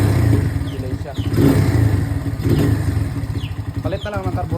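A Viperman 150 motorcycle engine runs nearby with a rough, uneven idle, a close pulsing chug with slight surges in revs as someone talks over it.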